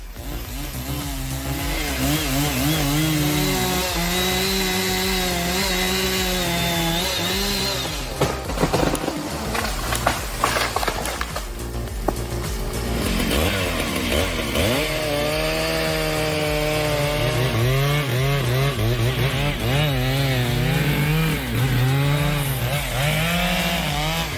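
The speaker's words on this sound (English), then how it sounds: "just bare feet scaling towering trees and felling them with a single saw" A chainsaw runs continuously at high revs and its pitch rises and falls as it cuts into a towering tree during felling. The loud engine drone stays steady throughout, with a brief disruption partway through.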